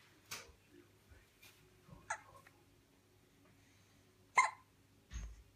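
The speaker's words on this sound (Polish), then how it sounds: "Masz czkawkę?" A young animal hiccups in a quiet indoor room, giving several short, sharp, isolated hiccups spaced unevenly over low background hum.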